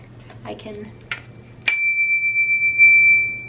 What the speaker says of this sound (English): he bought me a bell. Apparently this is the only rose gold bell that he could find anywhere